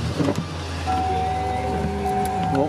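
A clean, well-kept used car idles steadily and close by, a low continuous engine hum with a faint tonal whine, running alone with no talk over it.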